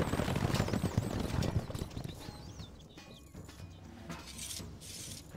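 Rapid horse hooves clip-clopping in a dense soundscape from the game The Kings Crusade, with whistling tones and clatter layered over the galloping rhythm.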